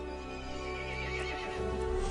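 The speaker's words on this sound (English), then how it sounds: "The horse grew angry and summoned the other monsters." A horse neighs loudly in the Resident Evil 8 video game, a drawn-out whinny set against a dense, sustained tonal backdrop with a hint of hoofbeats.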